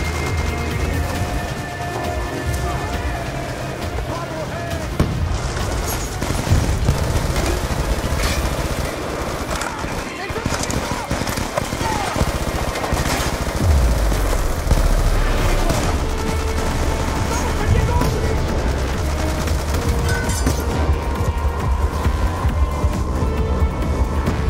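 Dense gunfire in the video game Call of Duty Black Ops 2, with sustained automatic bursts and explosions layered into a loud, nonstop battle din that lasts throughout.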